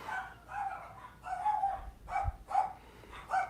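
Dogs bark in a rapid series of about seven short barks in an uneven rhythm. The barking is moderately faint and slightly distant, with no speech.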